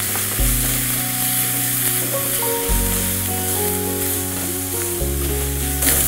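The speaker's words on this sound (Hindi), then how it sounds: "ये थोड़ा सा नारियल सौते कर रहा हूँ ताकि नारियल का तेल छूट जाए" Raw coconut sautés in oil in a pan for a tendli (ivy gourd) curry, giving a steady, close sizzle and frying crackle with soft background music running underneath.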